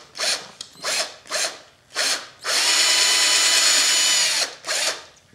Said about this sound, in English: So I want to drill one right there, and I want to drill one right there.